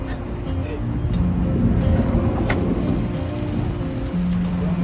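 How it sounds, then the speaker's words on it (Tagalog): Dense, steady roar of heavy rain pounding a surface, loud and constant, with faint voices underneath. "Sobrang lakas ng ulan guys."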